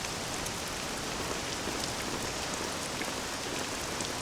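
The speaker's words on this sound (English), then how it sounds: "This accursed rain will chill ye to the bone." Steady rain in Dragon Quest VII Reimagined, a constant hissing patter of drops on surfaces, even and unbroken throughout, with no voices over it.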